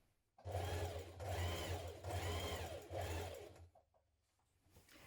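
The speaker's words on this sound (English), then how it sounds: "we're now going to stitch that in position" A sewing machine runs a hood seam on a hoodie in several close, steady bursts of whirring stitching separated by short pauses, ending with a quiet stop.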